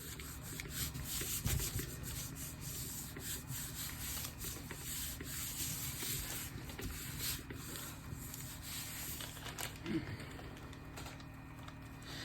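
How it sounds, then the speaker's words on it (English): Something being rubbed over a textured surface to build up layers, a continuous close scratchy rubbing with a couple of brief knocks and no talking. "You want to rub in all your spaces."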